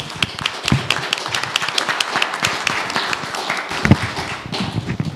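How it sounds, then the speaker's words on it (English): A crowd claps steadily in a dense patter of applause, many hands at once, moderately loud and continuous throughout. "Let's give the Chief a round of applause."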